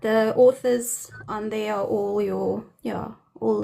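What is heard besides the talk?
No everyday noise stands out behind the speech.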